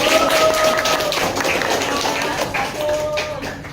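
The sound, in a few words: group applauding with hand clapping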